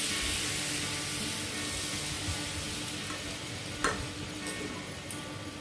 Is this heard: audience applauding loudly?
no